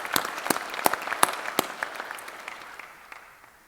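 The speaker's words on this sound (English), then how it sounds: "give him a round of applause" Applause from the audience at an electric cooperative's annual meeting, a short round of scattered, distinct claps from a modest crowd that thins and tapers away over a few seconds.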